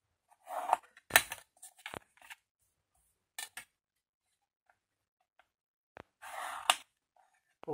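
Scissors cutting paper for a paper snow-queen castle craft, a handful of sharp close snips in short bursts separated by quiet gaps.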